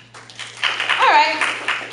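Audience at a stand-up comedy show breaking into scattered applause and clapping, mixed with voices and crowd noise throughout.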